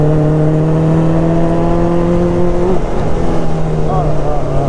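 Caterham car on a race circuit, its exhaust droning loud and close with steady high revs, then a gear change and a rising pitch, while a person talks over it.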